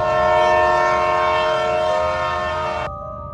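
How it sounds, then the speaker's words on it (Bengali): A loud, sustained multi-tone train horn blares steadily and then cuts off sharply, leaving a fainter lingering tone as it fades away. "হুইসেল বাজতে বাজতে মিলিয়ে গেল ট্রেনটা দূরে কোথাও"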